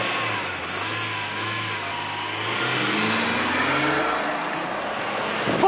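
A low-mileage right-hand-drive BMW E36 engine hums near the microphone and then rises as the car pulls away, a smooth mid-pitched drone building steadily with no talk.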